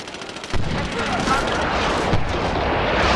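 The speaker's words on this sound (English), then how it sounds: "Mortars incoming." Mortar strikes in the Medal of Honor shooter game: a sudden heavy blast followed by sustained rumbling explosions and battlefield noise, loud and continuous, with a voice talking over it.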